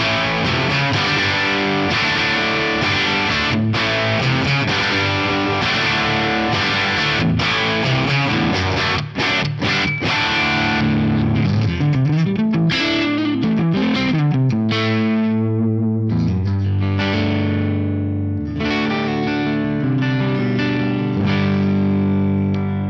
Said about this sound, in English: This is such a wonderful crunch tone.